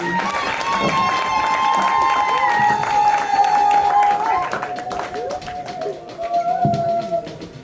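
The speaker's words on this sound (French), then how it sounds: "il faut applaudir, hein?" Crowd applause with scattered cheers at a village chief's enthronement ceremony for His Majesty Minka Mi Nwind Augustin Armel, a steady wash of clapping under voices and tonal sounds that carries through the whole stretch.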